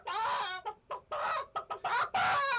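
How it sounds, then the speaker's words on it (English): BBC sound-effect recording of a chicken clucking: a close, clear series of short and drawn-out clucks in an uneven rhythm, with no voices. "Indisposed chicken."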